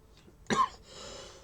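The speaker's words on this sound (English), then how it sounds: "Sorry, I got a bit of a cough today." A single sharp cough, close and fairly loud, followed by a faint breathy exhale against a quiet background.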